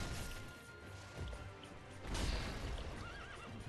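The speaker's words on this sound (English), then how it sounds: "Why is the horse jumping?" A horse neighs loudly in Sekiro: Shadows Die Twice, a drawn-out whinny over game sound, followed by a heavy crash and thudding hoofbeats.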